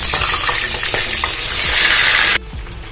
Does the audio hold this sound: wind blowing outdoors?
no